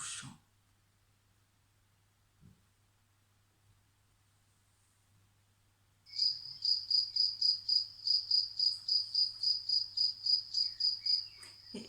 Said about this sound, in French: on a demandé au grillon de reprendre son chant.